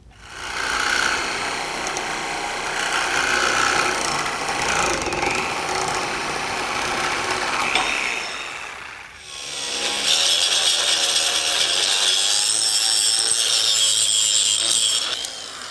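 Metal spindles from a 1967 Chevy C10 street truck build being ground with a power grinder, a loud, continuous abrasive whine that briefly dips around the middle, then resumes harsher and brighter.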